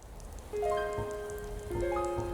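Rain falling at night in the video game Skyrim: a steady soft hiss of rainfall that runs throughout, beneath sustained musical tones.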